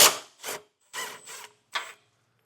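A 13mm bolt is worked loose from the rear exhaust hanger bracket of a 2024 Volkswagen during a trailer hitch install, a few short close metallic ratcheting and rubbing bursts separated by brief pauses.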